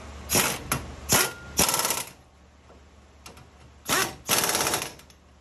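An impact wrench with a 21 mm socket tightens a wheel nut on a Ford Transit, rattling in short, sharp bursts, a few quick hits and then a longer grinding burst, with pauses between.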